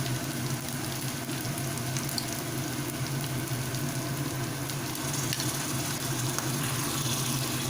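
Sour yogurt added to a hot pan of spices keeps up a steady, dense sizzle and bubbling hiss throughout, close and even in loudness, with no voices.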